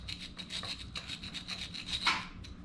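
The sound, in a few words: stone grinding away enamel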